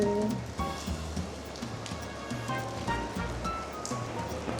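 Steady rain falls in Singapore near the Minions area of Universal Studios, a continuous dense patter on hard surfaces that fills the background at moderate loudness, with no talk over it.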